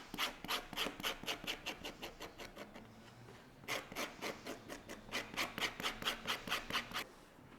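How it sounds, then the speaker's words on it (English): A scratch-all tool rasps back and forth across stiff soling leather for a mule/slide shoe, a steady run of close, dry scraping strokes in quick rhythm, pausing briefly midway before resuming. "So just using my scratch-all, I'm going to scratch up the whole surface"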